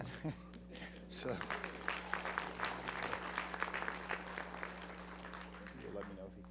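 An audience at a budget presentation applauding, a dense wash of many hands clapping steadily for several seconds, with a voice speaking over the start.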